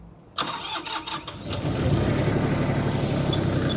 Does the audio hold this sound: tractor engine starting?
yes